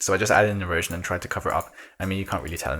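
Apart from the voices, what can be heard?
No distinct noise like a dog, phone or traffic.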